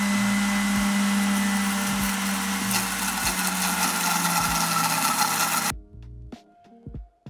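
A MOD Blend Pro blender whirs loudly and continuously as it purees basil pesto with olive oil, then cuts off abruptly near the end, leaving a few faint clicks and knocks.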